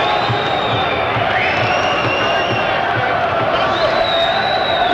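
A boxing crowd at the Nigel Benn vs Mauro Galvano fight boos after a glove comes undone, a steady, dense roar of many voices filling the arena from a distance while a commentator talks over it.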